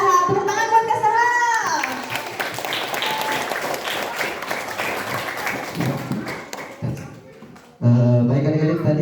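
Applause from a young audience of schoolchildren welcoming a speaker at an elementary school seminar, a dense patter of clapping lasting several seconds with a voice over it at the start and talk resuming afterwards.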